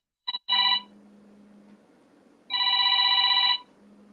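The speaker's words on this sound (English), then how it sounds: "Or do you want to answer the phone?" A telephone rings indoors in two bursts, a short double ring followed after a pause by a longer sustained ring, with a faint low hum underneath and no talk.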